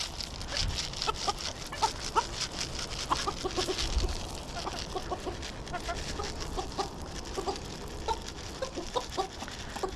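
Backyard hens cluck and chatter up close, overlapping short calls coming in irregular bursts throughout, with someone talking softly among them.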